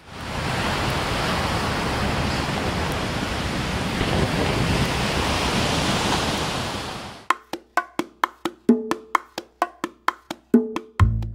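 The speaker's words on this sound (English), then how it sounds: "Look at those waves." Ocean waves on the Puerto Rico coast make a steady, loud broadband surf roar for about seven seconds, then give way abruptly to a quick series of sharp, rhythmic clicks.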